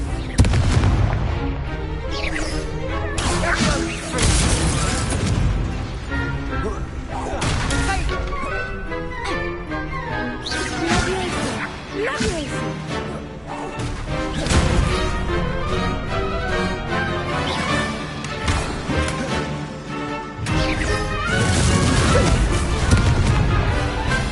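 Confringo fire blast spells exploding in Hogwarts Legacy during combat: repeated loud crashes and bursts over a dense mix of music and battle noise, with a voice calling out at times.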